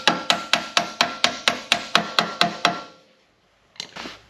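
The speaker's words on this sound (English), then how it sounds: "Official hammer." A hammer strikes eleven times in a quick, even rhythm, each blow sharp and ringing, then a pause before one more softer knock.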